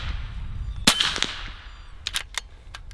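A single loud, sharp crack from an AEA HP MAX .357 air rifle charged to 3,500 PSI, followed by a short metallic ring and a few faint clicks of the action.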